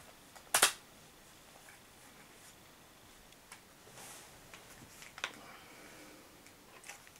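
An Umarex HDS68 pistol fires a hot glue slug with a single sharp, snappy crack near the start, followed by quiet ambience and a few faint ticks and clicks.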